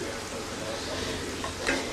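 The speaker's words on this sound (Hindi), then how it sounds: "चले अब मसाला की होगी भुनाई" Masala roasting in ghee for daal mash, a steady close sizzle and fry hiss with faint stirring scrapes running through the short stretch, no talk.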